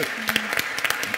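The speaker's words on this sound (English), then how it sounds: "a big round of applause for an amazing panel" Audience at a city-policy panel discussion clapping for the panelists, a short burst of individual claps close by, uneven and slightly sparse, with a faint voice hum in the background.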